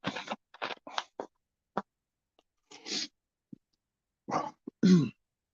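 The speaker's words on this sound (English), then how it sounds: "still can't shake this damn cough I've had for like a month" Several harsh coughs and throat clearings come in short bursts with pauses between them, close and fairly loud, and no talking.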